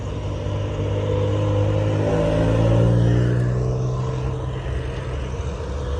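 A Ford GT40 supercar at the start of the Coupe des Alpes rally gives a loud, deep engine rumble that swells as it revs and passes nearby, then eases back to a steady drone.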